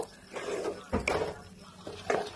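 A spoon scrapes and knocks against a cooking pot while cauliflower korma is stirred over low heat, in several short clinking strokes.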